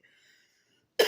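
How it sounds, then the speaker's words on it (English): A single sharp cough bursts out near the end, loud and close, after faint murmuring speech-like tones and near silence. "I was about to sneeze, and then I also had a cough."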